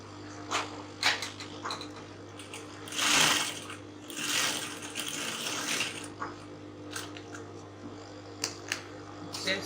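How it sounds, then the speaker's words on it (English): A sewing machine stitches corset pieces together, joining the center back and side back panels, in bursts of whirring motor run with a louder spell around the middle, over a steady low electrical hum. "you take it straight to the machine and then you sew"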